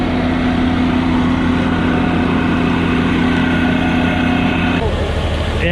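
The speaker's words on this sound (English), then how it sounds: "he's got the tractor at 1600. Now it's up to 1800 RPM." A John Deere 7520 tractor engine runs steadily at 1800 RPM, a loud continuous droning rumble with a slight change in tone near the end.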